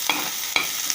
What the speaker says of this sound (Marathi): कांदा लालसर भाजून घेते